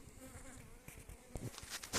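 Calm honey bees at their hive, busy with pollen collecting, give off a steady, soft buzzing hum, with a few louder passes toward the end.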